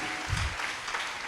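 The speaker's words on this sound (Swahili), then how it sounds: "Bwana sadaka ya makofi" A church congregation breaks into applause for the Lord at a sermon: a dense, steady wash of many hands clapping together, filling the room evenly for its short length.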